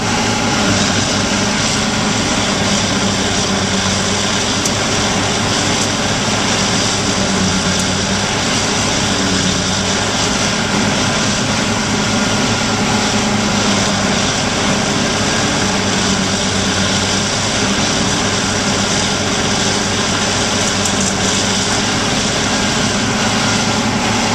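A loud, steady mechanical roar of a Roto Grind hay grinder running continuously, engine drone with dense grinding noise throughout and no pauses.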